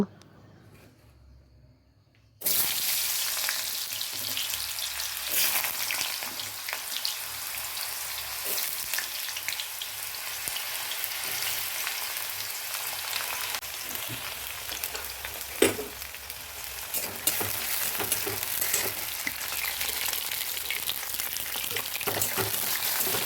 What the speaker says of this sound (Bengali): আগে প্রথমে আমি আলুটাকে ভেজে নেব